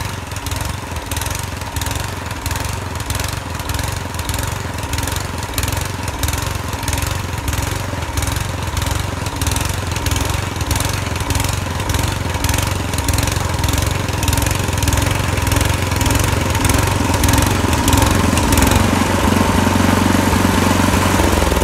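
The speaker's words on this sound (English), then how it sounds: "I got the snowblower running. It's not running the best." A 10 HP Tecumseh snowblower engine runs steadily and loud for about twenty seconds, a rough, slightly uneven small-engine drone with a faint rhythmic pulsing, heard alone without any talking.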